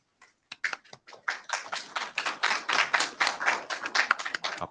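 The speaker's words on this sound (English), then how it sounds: "Applause." Meeting attendees at the close of an IETF working group session break into applause, starting with a few scattered claps and swelling into a steady round from a small group.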